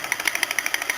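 A homemade thermoacoustic (laminar flow) engine built with steel tubing runs at a fairly fast speed, giving a steady, rapid mechanical ticking that is fairly faint and heard on its own.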